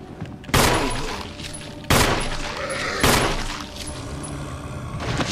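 Gunfire in Resident Evil Remake on PS4, three sharp loud shots spaced over a few seconds, each followed by a ringing decay over a low, busy game background.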